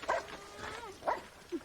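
A dog gives a few short barks and yips, three distinct bursts spaced through a second and a half, moderately near against faint background.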